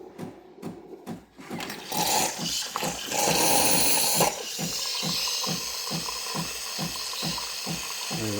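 A coffee machine frothing milk through a hose: a rhythmic mechanical pumping beat runs throughout, joined by a loud hissing, sputtering froth that splatters and then settles into a steady gurgle.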